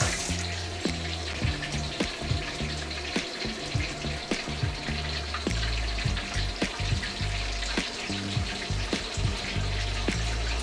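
Shrimp for honey walnut shrimp deep frying in very hot oil in a fryer, a steady bubbling roar dotted with sharp crackles and pops, close and continuous for about ten seconds.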